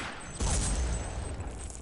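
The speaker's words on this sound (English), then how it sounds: "An MG where the sniper's supposed to be" A short, loud burst of rapid automatic gunfire from a machine gun in the shooter game Day of Defeat rattles close by, filling most of the brief moment.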